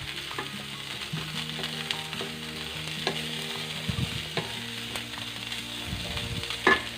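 Diced carrot frying and being stirred in a pan for baby daliya porridge, a steady close sizzle broken by repeated scraping strokes of a spoon, with no talk.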